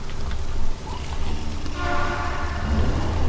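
A train horn sounds and a train rumbles by in the video game Legendary, a low steady roar with a tonal blast swelling near the end, heard without talk.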